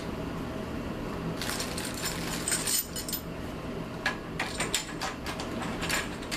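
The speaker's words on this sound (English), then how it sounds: "We'll just put our tension rods on here and finger tighten them down." Tension rods are being finger-tightened on a bass drum hoop, giving close, quiet metallic ticking and small rattling clicks over a steady background hiss, with brief clusters of clinks.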